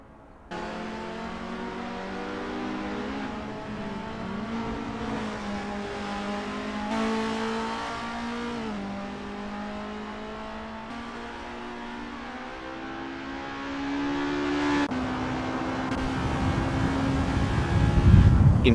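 Formula race car in a racing video game at Zandvoort, a steady high engine whine with gear shifts rising and falling, growing louder toward the end as it nears.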